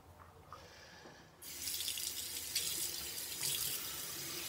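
Tap water starts with a sudden rush and then runs steadily into a sink while makeup brushes are scrubbed, a close continuous splashing stream after a quieter start.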